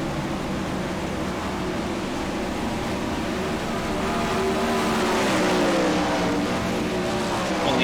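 Race cars running on a dirt oval in the iRacing sim at the Knoxville Nationals, a steady broad engine roar that rises gently toward the end, with no talk over it.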